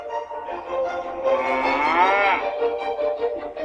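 A cow moos loudly and close, one long continuous low call that rises and falls in pitch without any pause.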